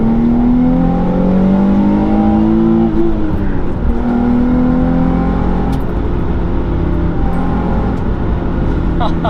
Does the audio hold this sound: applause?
no